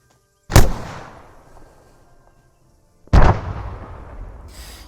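Two sharp 40 mm grenade round explosions in a NIArms video game mod, each a loud sudden blast with a decaying rumble, spaced a few seconds apart.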